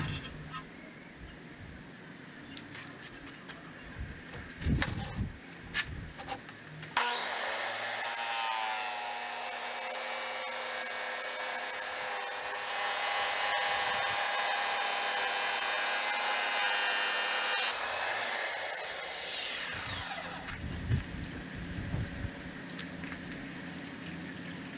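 A Milwaukee tile saw blade cuts through very thick, hard half-inch through-body porcelain, a loud sustained high-pitched whine with a grinding edge lasting over ten seconds, framed by quieter handling noise before and after.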